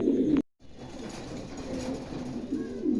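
A pair of adult Dragon pigeons coos in low, repeated, throaty murmurs at a wholesale pigeon market, close and steady with a brief gap near the start.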